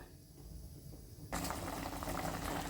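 A pot of taro root sambar boils with a soft bubbling simmer that suddenly grows into a louder, fuller rolling boil partway through, heard up close without speech.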